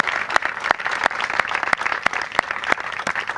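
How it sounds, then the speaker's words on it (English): Steady applause from a crowd gathered outdoors for a county park groundbreaking in Edgemoor Gardens, dense overlapping claps with a few sharper individual hits standing out, loud and close throughout. "Let's give Tracy a big round of applause."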